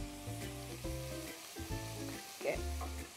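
Chopped onion and minced garlic sautéing in melted margarine, giving a faint, steady sizzle with a few soft stirring scrapes close by. A low tonal hum runs underneath the frying.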